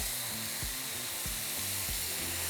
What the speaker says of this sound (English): set it on medium-high heat, and once hot, we're going to place our meat